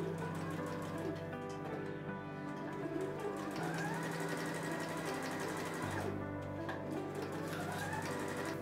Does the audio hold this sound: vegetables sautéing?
no